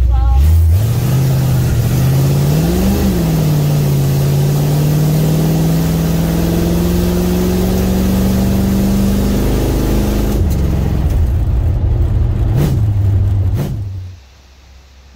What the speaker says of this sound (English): we just got done with that little short test drive there